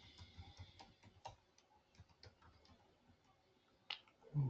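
Keys on a computer keyboard click faintly and irregularly in a quiet room while a shell script is run. There is no talking.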